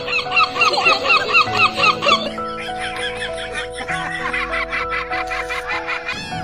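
A seagull calls in a series of harsh, cackling squawks near the microphone, with sustained musical tones running underneath.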